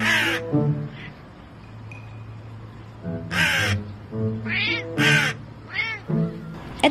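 A crow caws in several loud, harsh bursts close by, trading calls with a cat that meows in between, over a low steady background hum.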